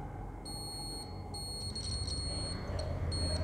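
Multimeter continuity beeps while probing a dead mobile phone circuit board during repair, sounding as a series of short, steady high-pitched tones in separate bursts over a low background hum.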